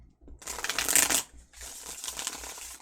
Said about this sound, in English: So because of that, I do shuffle very thoroughly